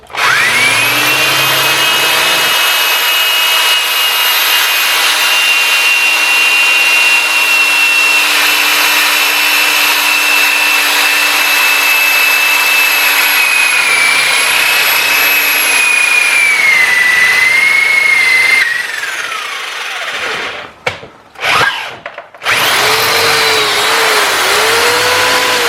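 A 5/16 inch metal drill bit bores into a Casita RV jack handle, whining steadily and loudly for about eighteen seconds with small dips in pitch, then winding down and stopping in a few short bursts.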